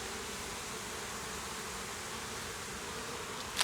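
A dense, steady buzz of many honey bees in a two-queen hive fills the air, close and continuous, with a brief sharp noise at the very end.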